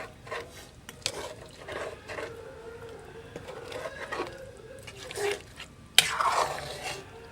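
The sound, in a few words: stirring native seafood soup in a pot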